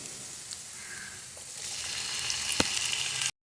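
Tomatoes drop into a pan of well-roasted onions for Malvani prawn masala, a close, low hiss of frying that swells louder midway, with a sharp clatter before the sound cuts briefly to silence.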